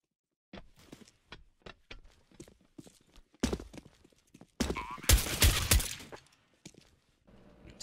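Gunfire rings out in a shooter video game: sharp single shots pop at intervals, then a loud, dense burst of firing swells before tapering off.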